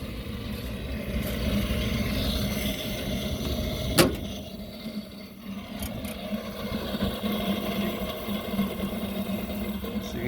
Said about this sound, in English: So you can hear the bearing's gone in that inducer motor.